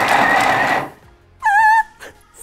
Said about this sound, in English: It's a little bit like a pulse function on like a food processor.